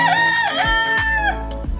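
A farm rooster crows once, close and clear: a loud, tonal cock-a-doodle-doo with rising and falling pitch, and a few faint low thumps beneath it.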